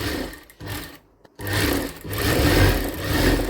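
A sewing machine stitches along a half-inch folded strip of blouse fabric, a close, loud mechanical whir that runs in bursts, with one clear stop partway through before it starts again, alone and without speech.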